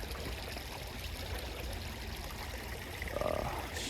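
A creek runs steadily at cold winter temperatures, giving an even, broadband rush of flowing water that stays fairly faint and unbroken, with a slight swell near the end.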